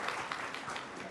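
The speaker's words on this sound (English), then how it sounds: "Can we have a round of applause," Audience applause at a live celebrity panel interview at a conference, a steady dense wash of clapping throughout the short stretch with no voices on top.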